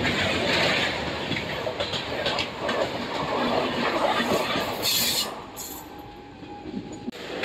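Two trains crossing each other on a bridge beside a highway, one of them the Puri Durg Express, in the morning; a loud continuous rumble and clatter of wheels on rails with brief squeals, fading toward the end.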